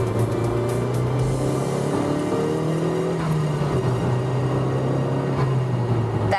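A Honda Civic Type R pulls hard in fourth gear, its engine a loud, steady drone that holds from start to finish, close and continuous.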